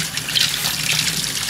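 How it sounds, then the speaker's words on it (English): Water from a tap runs steadily into a laundry sink, rinsing dirty car intake filters from a BMW X5M from the inside out; a continuous close hiss and splash with no talking. "now we're rinsing from the inside out"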